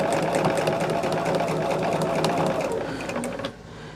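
A sewing machine stitches a quilt seam, its steady, close mechanical whir running continuously before tapering off near the end as the machine slows and stops.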